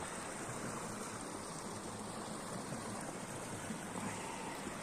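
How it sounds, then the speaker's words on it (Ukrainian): Steady rushing of flowing stream water, constant and fairly close, with no pauses or other sounds. "Річечки, відводки, везде тече вода."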